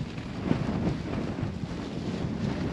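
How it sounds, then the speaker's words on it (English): Strong gusts of wind batter a tent in an Antarctic storm of about 60 mph, a continuous loud roaring rush with flapping fabric noise that swells and holds without pause. "there's like a new gust of wind that hits the whole structure of the tent again"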